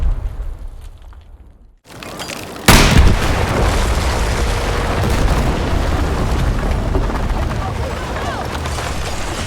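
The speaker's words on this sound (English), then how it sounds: "Detonate C4." C4 explosive detonating in a Call of Duty or Battlefield game: after a short hush a sharp loud blast hits and rolls into a long, dense rumble of debris and battlefield noise.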